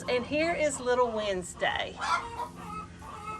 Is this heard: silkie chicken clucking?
yes